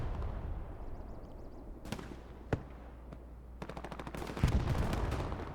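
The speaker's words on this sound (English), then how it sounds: "Artillery continues to fall around cemetery." Artillery and gunfire in the World War II shooter Hell Let Loose: distant thumps and sharp single shots crack through a dense rumbling backdrop, ending in a rapid machine-gun burst and heavy continuous firing.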